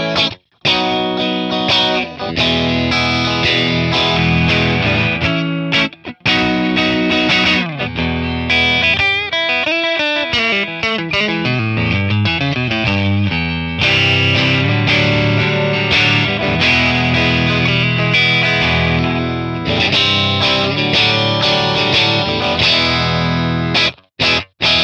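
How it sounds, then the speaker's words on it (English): A Stratocaster played through a 1963 Fender Brown Deluxe amp and cabinet at edge-of-breakup, loud chords and sustained notes with slight grit and warmth, continuous with brief pauses. "Let's do some edge of breakup tones, also with a cabinet here, and this time with a Strat again"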